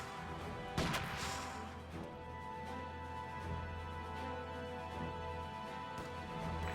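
Gunfire and grenade blasts in a video game battle: a sharp explosive crack early on, then a dense, continuous rumble of shots and battle noise throughout.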